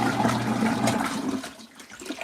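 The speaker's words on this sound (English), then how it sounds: "Oh, finally that rinse is over." Water rushing and churning inside an LG ThinQ MEGA Ultimate washer during its rinse cycle, a loud, steady, broad wash of sloshing that thins out and quiets toward the end, with no talking.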